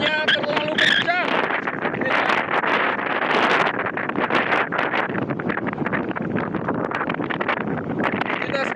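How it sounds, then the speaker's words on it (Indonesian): Strong wind blows across a mangrove jetty, battering the microphone with a loud, continuous roaring rumble that gusts and surges throughout. "Anginnya terlalu kencang."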